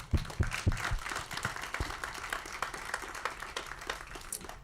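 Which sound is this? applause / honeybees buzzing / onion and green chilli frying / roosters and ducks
applause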